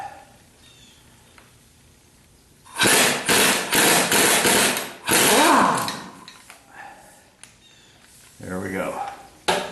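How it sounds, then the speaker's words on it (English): An impact wrench hammers at a bolt on the half shaft of a 1976 Corvette, two loud, close, rattling bursts of several seconds each, with quieter handling noises and a brief voice around them. "I can get the bolt out with the impact socket"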